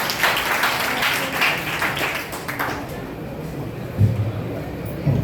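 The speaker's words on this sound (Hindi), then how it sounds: "एक बार विद्याशु पांडे भाई के लिए जोरदार तालियां बजा लें।" Audience applause following a poem recitation at a cleanliness-themed poetry gathering and competition, a dense wash of many hands clapping that fades somewhat toward the end, with a couple of low thumps near the close.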